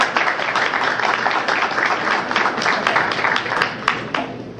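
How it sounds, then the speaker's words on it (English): At a gala, an audience gives a round of applause, dense and steady clapping that carries on evenly from start to finish, with a voice faintly mixed in. "let's give a round of applause for Rose."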